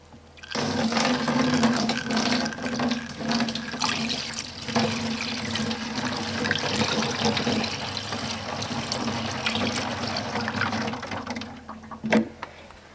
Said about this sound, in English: I'll take the juice and I'll pour it now into the top of here.